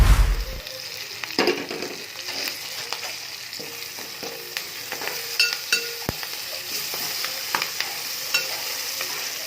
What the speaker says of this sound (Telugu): ఇప్పుడు దీంట్లో కొద్దిగా కడిగి పెట్టుకున్న కరివేపాకు వేస్తున్నాను